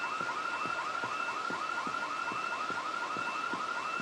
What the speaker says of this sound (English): You go towards the alarm.